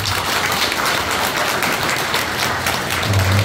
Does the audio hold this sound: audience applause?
yes